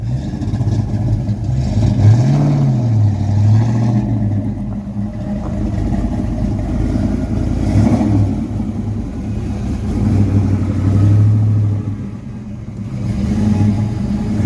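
A 1993 Ford Mustang SSP ex-police car engine runs steadily with a low rumbling idle and occasional revving swells, close by, with no talking, on a rainy day.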